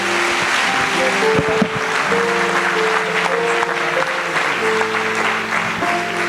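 Church congregation applauding during a Portuguese-language sermon, a dense continuous wash of clapping with sustained organ or keyboard tones underneath, steady and fairly loud throughout.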